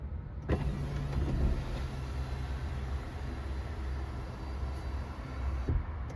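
Sunroof motor in a Kia EV6 GT Line AWD, a steady electric whirring hum running for several seconds inside the cabin, starting and stopping with faint clicks.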